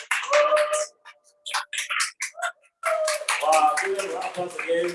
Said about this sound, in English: give them a round of applause again from the room here and from the Zoom room